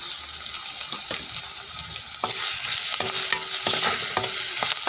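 Fish pieces coated in turmeric fry in hot oil while being stirred, a loud steady close sizzle with scraping strokes and clacks of the utensil, growing louder partway through, with no talk.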